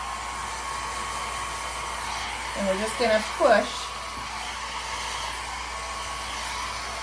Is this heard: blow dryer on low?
yes